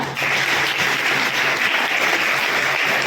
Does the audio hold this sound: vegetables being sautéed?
no